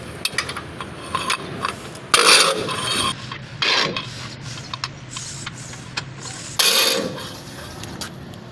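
A stuck bolt on an Isuzu Elf truck's suspension turns after a WD-40 soak, giving intermittent grating, rasping squeals and metallic creaks in short bursts against a low background hum.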